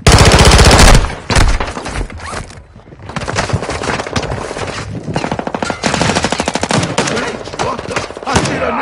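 Rapid machine-gun fire from a Call of Duty match rattles loud and close in dense bursts, with a brief lull before the shooting resumes and keeps going to the end.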